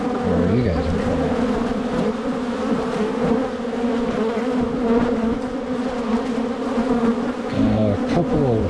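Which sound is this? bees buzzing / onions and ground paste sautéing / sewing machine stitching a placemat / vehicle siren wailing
bees buzzing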